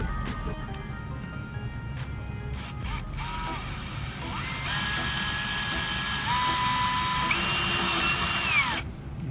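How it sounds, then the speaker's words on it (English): Power drill boring holes for a 26-inch lightbar mount on a Dodge Ram pickup, whining steadily with rising pitch as the bit works through metal, a few short bursts then a longer sustained run, close and fairly quiet. "So I'm gonna go ahead and drill out those two holes in that size."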